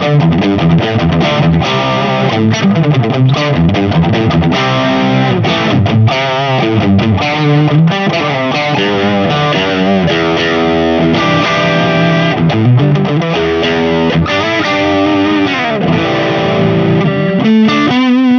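Electric guitar played through a Mad Professor Bluebird overdrive/delay pedal with the gain turned fully up, a loud, saturated distorted tone with sustained chords and bending notes ringing continuously and no talking.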